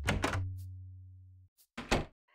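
Door opening in the video game Parasite Eve 2: a heavy thunking open followed by a sustained low mechanical hum that cuts off, then more clunky impacts, loud and close with no voices.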